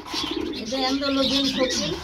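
Pigeons at a pigeon farm give a short run of soft, throaty cooing up close, with rolling repeated notes and faint background chirps.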